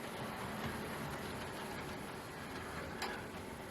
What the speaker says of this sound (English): Now that appeared to rumble over the points without any particular difficulties.